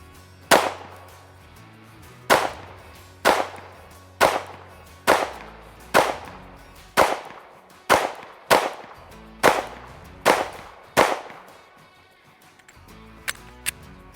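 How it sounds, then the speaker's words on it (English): About a dozen sharp, loud shots from a Springfield Hellcat Pro Comp pistol ring out at an outdoor range, fired at a steady pace of roughly one per second, with a short pause before the last few. "Let's throw some more rounds down range."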